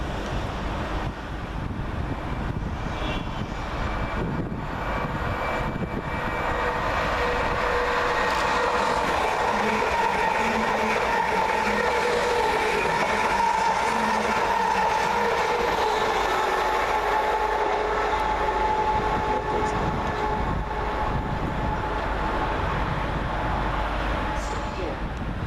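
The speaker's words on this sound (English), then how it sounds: "745107 passes through, working 1 Bravo 86 from London Liverpool Street to Stansted Airport." Train 745107, a Stansted Airport service, passes through Meridian Water station, a long continuous rumble and rattle of rail cars running past, loud and close, with wind noise buffeting the microphone throughout.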